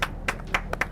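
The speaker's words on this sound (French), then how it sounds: "Bravo, ça s'applaudit." Brief applause for a contestant at a cooking competition, heard as four or five sharp handclaps in quick succession, close and crisp, with no talk over them.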